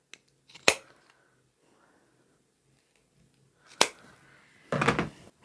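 Scissors snip fabric scraps into strips roughly 2.5 inches long: two crisp, close cuts several seconds apart, then a brief rustling burst as the cloth is handled.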